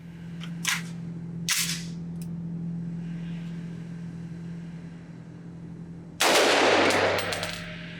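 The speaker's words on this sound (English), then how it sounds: "I'm going to shoot this once again unsuppressed and then suppressed" A rifle fires several shots at an outdoor range, unsuppressed and then through a Huxwrx Ventum 762 flow-through suppressor, with two sharp cracks early and a louder, longer blast near the end over a low steady hum.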